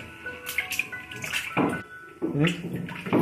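Potatoes for homemade chips are washed by hand in a vessel of water, giving irregular close sloshing and splashing bursts with dripping between them.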